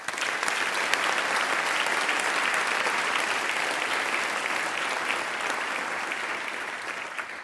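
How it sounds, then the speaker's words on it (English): Sustained applause from a ceremony audience honouring officers who completed a rigorous training course at an Officer Training School class ceremony, a dense, steady wash of many hands clapping for about seven seconds, gradually easing slightly toward the end. "Please give a round of applause for the officers who have completed this rigorous course"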